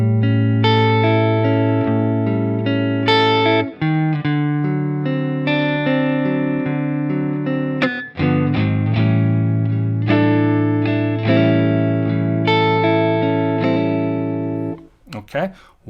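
Electric guitar with a slightly overdriven, effected tone plays a 12/8 blues triplet feel, loud sustained chords rolling in groups of three, with a brief break near the end.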